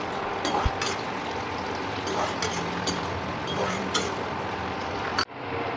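Spices fry in a pan for palak paneer, giving a steady soft sizzle with scattered clinks and scrapes of stirring, ending in one sharp utensil knock.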